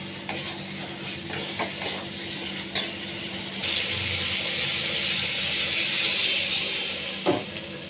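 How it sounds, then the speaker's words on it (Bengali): Potatoes, pointed gourd and green chilies are stir-fried in a pan, giving a continuous close sizzle broken by spatula scrapes and clinks, fairly loud, with no talk. "পটল আর কাঁচা লঙ্কাটাও দিয়ে খুব কষিয়ে নেবো।"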